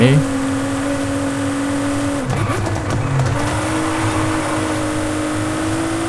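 Nissan Fairlady 350Z engine revving with gear changes, a steady loud drone that drops and resettles in pitch at a shift midway, with a voice talking over it.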